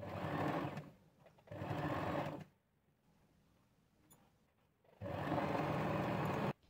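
A sewing machine runs in three close, steady bursts, two quick ones and then a longer run after a pause, stitching an elbow sleeve for a dress.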